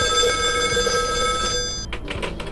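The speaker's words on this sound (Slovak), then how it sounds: "telefónna búdka? Prečo zvoní takto uprostred noci?" An old-style telephone bell from a phone booth in GTA 5 Online rings steadily and loudly, then cuts off, leaving faint background sounds.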